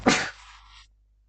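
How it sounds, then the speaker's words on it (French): A single sharp cough bursts close to a microphone and fades quickly into silence. "Ah, j'ai toussé."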